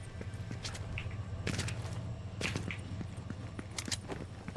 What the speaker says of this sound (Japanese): 人がジップラインを乗ってる音がしました。